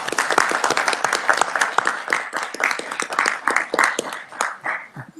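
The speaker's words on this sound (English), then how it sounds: "Give Jake a round of applause." A small group in a state Senate Ways and Means committee room gives a page a round of applause, individual hand claps close and distinct, irregular and bunched, swelling and thinning over a few seconds.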